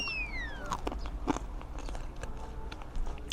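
Crisp crust of a chewy, buttery bread from a Jeju City bakery is bitten and chewed, a few soft crunches close up with quiet background noise and no talking.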